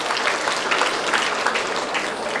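Steady, dense applause from an audience at the opening of a Daegu education superintendent candidate's campaign office, a continuous even clatter of many hands.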